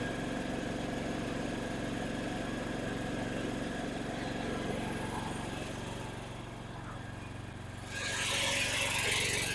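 A Husqvarna TC114 lawn tractor with a 452 cc engine runs at a steady idle, close and continuous, then briefly dips before the engine revs up louder near the end.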